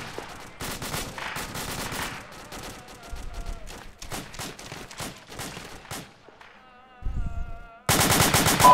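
Bursts of automatic gunfire crackle through a military video game firefight in Arma, with rapid volleys near and loud, a short lull, then a sharp renewed burst at the end.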